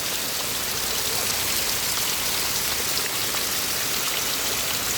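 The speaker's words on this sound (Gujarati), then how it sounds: "બહુ બધો પડે છે હવે વરસાદ રંગપુર ગામની અંદર" Heavy rain pours down in Rangpur village, a dense, steady hiss of drops hitting surfaces that stays loud and unbroken throughout, with no voices.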